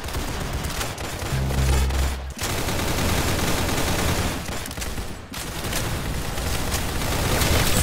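Dense, rapid gunfire from the Roblox game Arsenal rattles almost without pause, loud and continuous with brief gaps and booming hits mixed in.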